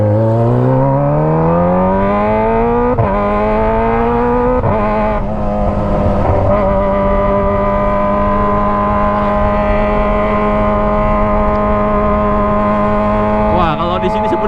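A Kawasaki ZX25R motorcycle with a Toce aftermarket exhaust revs loud and close, its pitch climbing over the first seconds, then holding a steady high-rpm drone with brief blips, heard from the bike itself.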